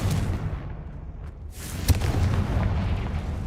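A Confringo fire spell bursts in Hogwarts Legacy, a deep rumbling boom with a sharp crack near the middle that leaves a heavy low roar rolling on behind it.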